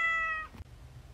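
A single short cat meow, clear and fairly close, rising then cut off within half a second, followed by quiet room tone.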